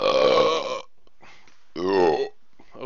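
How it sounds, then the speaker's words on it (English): Two loud, close, drawn-out burps, each lasting under a second, with a short quiet gap between them and no talking. "All the burps."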